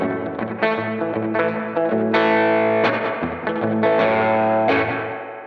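Distorted electric guitar chords ring out with a delay effect, each strum echoing and overlapping the next in a steady, loud run.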